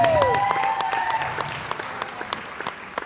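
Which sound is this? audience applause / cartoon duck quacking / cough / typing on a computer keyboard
audience applause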